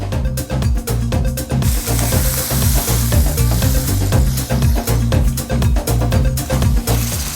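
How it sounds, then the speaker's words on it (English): A seasoned beef pot roast, rubbed with salt, fennel seeds, cloves and red peppercorns, sears in a hot pan with a loud, dense, continuous sizzle and crackle, close up and without talking. "So we're gonna sear it, not to cook it"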